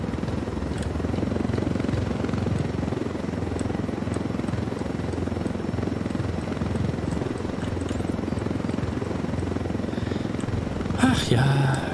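Helicopter in the Ghost Recon Wildlands video game, a steady loud rotor roar with engine drone that holds throughout, ending with a brief electronic chirp.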